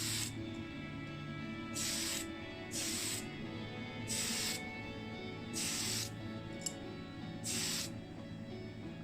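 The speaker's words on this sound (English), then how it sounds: "I'll go over it with my Tamiya Fine Surface Primer in grey" Tamiya Fine Surface Primer in grey sprays from an aerosol can onto a casting in five short hissing bursts of about a second each, close and fairly quiet over a low background hum, with no talk.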